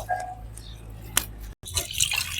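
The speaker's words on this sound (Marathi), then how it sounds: "मुगाची डाळ पण आता दोन पाण्यानं धुवून घेतो" Moong dal is rinsed in water in a bowl, with soft sloshing, drips and small splashes close by, briefly pausing before the swishing resumes.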